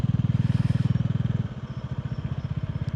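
A motorcycle in second gear during riding practice in a parking lot gives a loud, close, steady pulsing engine throb that eases slightly halfway through and keeps chugging, with no voices.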